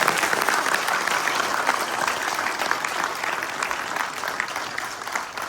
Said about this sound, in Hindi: ताली की गूंज इतनी आनी चाहिए कि मोदी जी को पता चले जम्मू वालों ने कोई धन्यवाद किया।